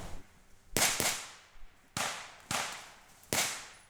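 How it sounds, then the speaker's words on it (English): Rifles firing blanks during a military battlefield training exercise for RAF recruits: five sharp, loud cracks at uneven intervals, each with a short ringing tail, no talking. "They're firing blanks in this battlefield exercise"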